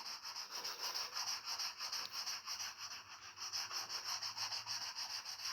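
Steady rhythmic rubbing of sandpaper on a car bumper during a respray repair, close and continuous with regular back-and-forth strokes, no voices.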